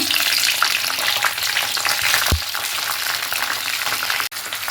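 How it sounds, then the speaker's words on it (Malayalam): Washed dried red chillies frying in sesame oil, a loud dense crackle and spatter close up with a few stirring knocks, continuous throughout without speech. "അപ്പോൾ എണ്ണ വല്ലാതെ ചൂടാവണതിൻ്റെ മുമ്പ് തന്നെ ഞാൻ മുളകിട്ട് കൊടുക്കുകയാണ്"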